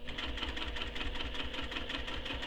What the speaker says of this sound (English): So I'm going to top stitch all of these